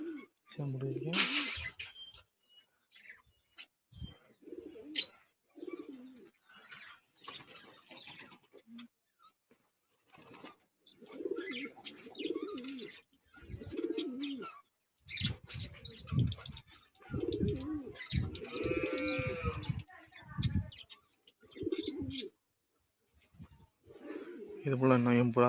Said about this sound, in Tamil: இதுதான் என் புறா.